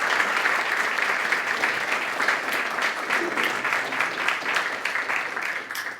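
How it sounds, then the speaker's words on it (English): A crowd claps warmly at a library's grand re-opening, dense continuous applause holding steady and loud throughout, with no single voice standing out. "that's probably one of the biggest applause"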